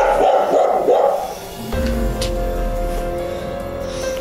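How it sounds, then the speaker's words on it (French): Dogs bark sharply at first, then a low, sustained rumbling growl takes over and holds steady and close. "les chiens ils grognent"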